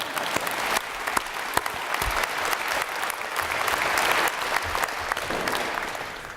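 Sustained audience applause at a fall university convocation ceremony, many hands clapping steadily in a large hall for several seconds with a few louder individual claps standing out.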